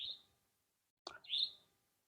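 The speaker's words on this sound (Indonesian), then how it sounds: "itu kayak burung lah, sambil lewat sambil bunyi" Two high, thin chirps from a bird calling as it flies past over a forest campsite, separated by a short silence, fairly faint, with a soft rustle between them.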